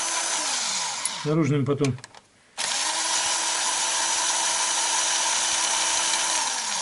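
A cordless screwdriver spins out cylinder head bolts on a VAZ 2109-2115 engine: a loud, steady motor whine that ramps down, a short burst of speech, then the whine starts up again and runs on continuously, close up.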